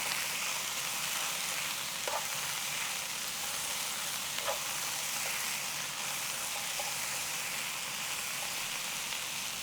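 Bok choy cooks in a hot stir-fry pan, giving a loud, constant, even sizzle throughout with a few faint clicks and taps from stirring.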